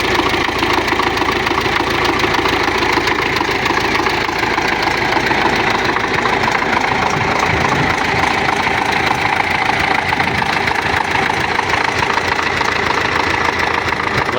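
A YUMZ-6 tractor engine idles with a homemade exhaust, a loud, close, steady diesel rumble with a rough knocking texture, running continuously and unchanged throughout with no voices.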